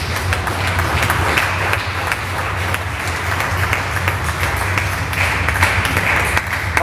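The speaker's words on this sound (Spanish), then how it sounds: "Denle palmas a Cristo" Church congregation at a Christian temple service in Mexicali claps steadily and loudly for the whole stretch, a dense continuous roar of hands with little speech.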